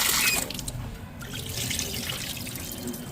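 Soaked urad dal being rinsed in a bowl of water for Jaffna-style bonda batter, with steady close splashing and trickling that is strongest at the start and continues without voices.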